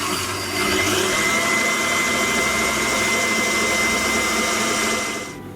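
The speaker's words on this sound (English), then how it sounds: "Now I've changed the mixer because this will work better than what I put in originally when the sugar goes in" A stand mixer runs steadily as sugar is beaten into a mixture, giving a loud continuous motor whir with a faint high whine that holds for about five seconds before cutting off abruptly.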